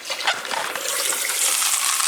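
Water being poured in to make Velveeta cheese, a steady splashing stream running close and fairly loud for about two seconds with no talking.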